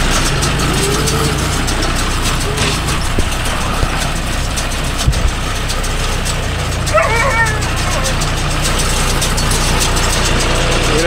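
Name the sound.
John Deere 5105 tractor engine running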